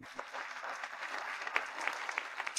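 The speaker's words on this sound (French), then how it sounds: "Accueillons nos fiancés sous les applaudissements." Applause greets an engaged couple being welcomed at their engagement ceremony, a steady, moderately quiet patter of many hands with scattered sharper claps, no voices over it.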